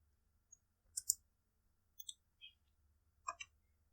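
Computer mouse clicking at a desk, a few sharp isolated clicks and double clicks spread across a quiet room with a faint low hum.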